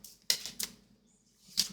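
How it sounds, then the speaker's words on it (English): A deck of board game cards being shuffled, with two sharp riffling bursts close together and a third after a short pause, close and fairly quiet in a still room. "Give those a good little shuffle."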